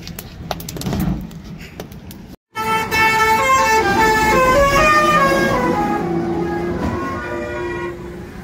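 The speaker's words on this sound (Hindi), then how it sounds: "सबसे प्यारा हॉर्न पूरी दुनिया का।" A musical vehicle horn plays a bright, stepping melody of tones, loud and close, following a brief rumble of traffic on a street in Indore, India, heard while cycling.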